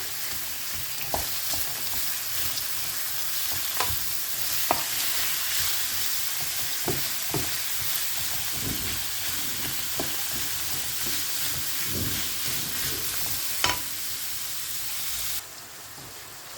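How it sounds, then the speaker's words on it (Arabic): Kofta frying in a pan for pasta sauce, a loud steady sizzle with repeated scraping and clinking knocks as the meat is stirred, close up and without talk. "غادي نحركوا على الكفته ديالنا من بعد ما دازت عليها واحد الدقيقه هكاك"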